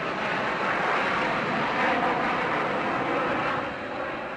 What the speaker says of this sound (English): toward the sounds of the big jets clearing their throats at nearby Kelly Field